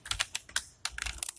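Quick, uneven bursts of keystrokes on a computer keyboard while code is entered, close and crisp, with short pauses between clusters of presses and no talking.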